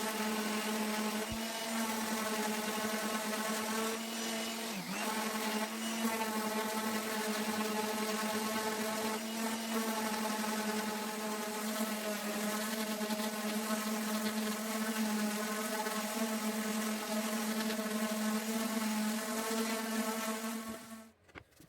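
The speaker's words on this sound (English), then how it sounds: "I've got the monotonous job of once again having to sand the old aged yellowing varnish off." A power sander runs continuously while stripping old, aged yellowing varnish off a wooden table, giving a steady, loud, whining hum that barely changes before it cuts off at the end.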